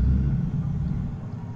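Two cars pull up in the video game Battlefield Hardline, a steady low engine rumble running continuously and fairly loud, with no speech over it.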